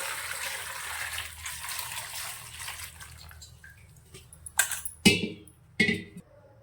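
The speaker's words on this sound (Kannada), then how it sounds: "ನೀರು ಹಾಕಿ ಕ್ಲೀನಾಗಿ ತೊಳ್ಕೊತೀನಿ" Potatoes are washed in water with a soft, running rush at first, followed by a few louder splashes and sloshes near the end, heard close by.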